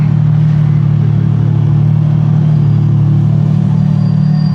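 A Lamborghini Revuelto rolls out at a car meet, its engine giving a loud, steady low rumble that holds throughout without sharp revs.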